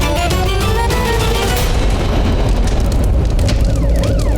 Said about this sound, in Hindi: फायर ब्रिगेड आ गई।